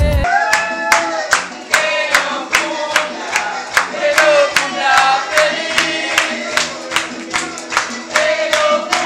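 Guests at a 50th birthday party applaud in rhythmic unison, sharp claps in a steady beat with cheering voices and shouts mixed in, loud and close.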